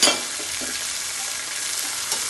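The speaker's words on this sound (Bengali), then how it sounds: "আবার একটু নাড়াচাড়া করে নিলাম।" Greens with tomato and beans fry in a pan while being stirred, a steady close sizzle with a few soft scraping strokes.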